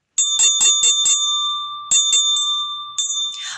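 A small, loud musical bell rings clearly in a kindergarten music exercise: a quick run of five bright strikes, a pause, then several more strikes whose ringing tone lingers between hits, with no talking.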